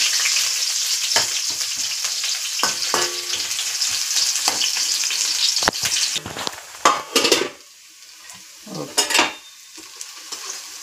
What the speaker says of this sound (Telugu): ఆయిల్ కొంచెం వేడైన తర్వాత ఆనియన్స్ వేసుకుందాం. ఆనియన్స్ కొంచెం వేగిన తర్వాత